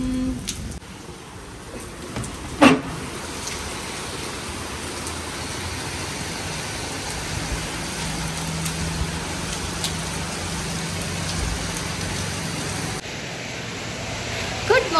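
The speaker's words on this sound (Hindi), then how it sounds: "और कितने दिनों के बाद में आज जम के बारिश हो रही है।" Heavy rain pours down in a steady, dense hiss that carries on without a break for the whole stretch, with one brief knock partway through and no voices.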